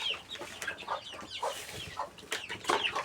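Hungry chickens on a farm cluck and squawk close by in quick, restless bursts, several birds calling over one another.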